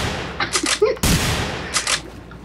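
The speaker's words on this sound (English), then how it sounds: "Long range shotgun." Shotgun blasts and other gunfire in the multiplayer game The Hidden, with a sharp loud boom at the midpoint amid several quicker shots, while players talk over the action.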